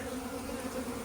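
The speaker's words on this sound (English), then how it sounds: "All these bees flying around here are drones." Drone honeybees fly around a hive box with a migratory top and telescopic lid, making a steady, close, continuous buzzing hum with no talk.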